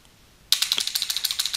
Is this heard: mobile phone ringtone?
no